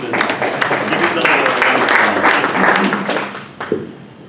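Audience applause at a well-attended candidates' forum, a dense burst of many hands clapping for about three seconds before it tapers off.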